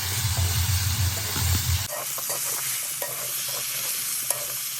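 Vegetables with turmeric being stirred and sautéed in a pan, a continuous sizzle with a low rumble at first, then scraping spoon strokes over an even hiss.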